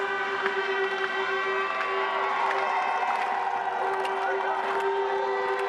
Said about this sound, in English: Getting plenty of support from the home crowd.